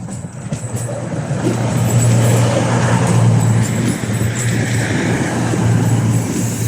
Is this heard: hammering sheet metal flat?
no